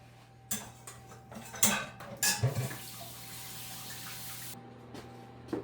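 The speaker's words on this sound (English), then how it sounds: "I always like to hit it on the countertop so it can take out whatever air bubble it has" A sponge-cake pan filled with batter is knocked against a kitchen countertop a few times: sharp, close thuds with a brief cluster of bangs, then only quiet room hum.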